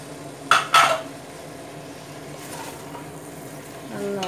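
A few sharp metal clinks of a spoon against a pressure cooker while fried chicken is stirred into biryani masala, then a soft background hum with faint cooking sounds.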